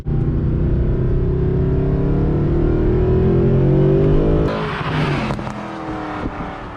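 A Mercedes-Benz SLS AMG with a 6.3 liter V8 accelerates hard, its loud close engine climbing steadily in pitch before a shift and a throaty drop, then pulling again.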